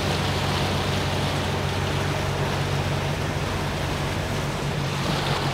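A sailboat motoring at sea at about seven knots under engine power with no wind, a steady broadband wash of water and engine rumble that stays constant and fairly loud, with no talk.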